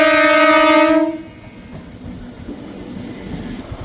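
A train horn blares loud and close for about a second at Venkatagiri railway station, then cuts off, leaving a rumbling, rattling train running underneath.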